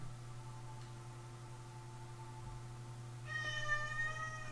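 A Minecraft cat gives a short meow near the end, set against a low steady hum and faint game ambience, with no voices.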